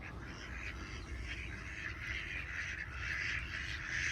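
Indian Runner ducks and ducklings kept for sale in Fergana make faint, overlapping quacks and calls in a continuous, busy chorus heard at a distance.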